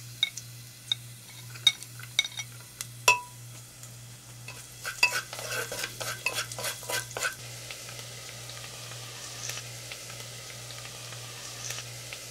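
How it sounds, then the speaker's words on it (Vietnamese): Shallots and garlic frying in pork fat in a pot, with soft sizzling under sharp clicks and scrapes of a utensil stirring against the pot, busier in the middle and settling into a quieter sizzle near the end. "Bây giờ mình cho hành tỏi vào phi lên"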